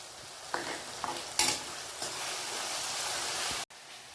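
Tomatoes, green chillies and curry leaves are being stirred as they fry in a pan, with a steady close sizzle and a few louder scraping strokes.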